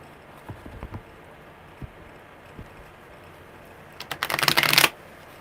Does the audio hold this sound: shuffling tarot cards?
yes